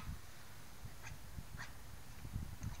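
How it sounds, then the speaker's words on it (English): Small dog giving soft yips and whimpers, a few short high cries over low rumbling room noise, faint and fairly close. "look at this little dog"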